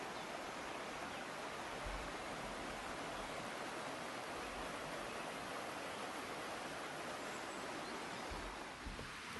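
A mountain creek with a quartz and quartzite bed flows in a continuous, even rush of water, close and steady throughout, with a couple of low thumps near the start and end and no speech.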